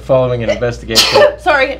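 A single sneeze bursts out in the middle of a morning-show news reading, with speech before and after it.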